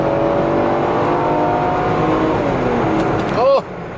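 A Mercedes-Benz W124 station wagon engine hums steadily from inside the cabin, then its pitch sweeps as the revs shift on a downshift, ending in a brief rising blip.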